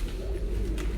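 A Jugnu pigeon gives a short, low, soft coo, close by and heard on its own.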